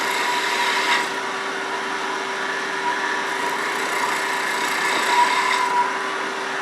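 A wood lathe turns a chess rook with crenellations as the tool eases into the cut, giving a steady, close motor drone with a continuous whirring hiss that swells slightly now and then, no voices.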